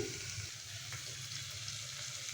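Ridge gourd fries quietly in a pan, a soft, even sizzle with faint stirring, steady and unbroken from start to finish.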